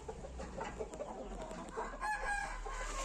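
A rooster crows once at moderate distance over a low, steady background hum, with faint clucking of other poultry around it.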